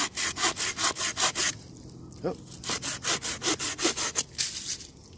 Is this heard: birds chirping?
no